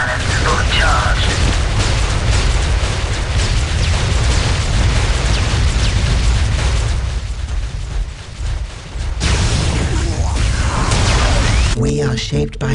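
A loud, dense barrage of booms, bursts and mechanical clanks from Eldar prism cannons and battle effects in Warhammer 40,000: Dawn of War – Soulstorm, continuous for most of the stretch with a short dip near the end.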